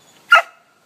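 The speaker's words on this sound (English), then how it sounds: "Hey, no barking." A single sharp dog bark, close and loud, rising suddenly from near silence and fading out quickly, with no talking over it.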